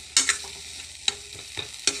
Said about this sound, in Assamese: এতিয়া এনেকৈ অকণমান সময় 5 মিনিটমান সময় এনেকৈ ভাজি দিম